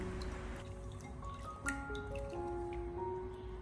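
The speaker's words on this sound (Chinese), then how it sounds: "我们在清洗过程中尽可能的将它多淘洗几遍，直到里面的清水变得清澈为止" Peeled shrimp are rinsed repeatedly in clean water in a kitchen and then drained, giving soft sloshing, dripping and squishing sounds, close and quiet, with faint tonal background music.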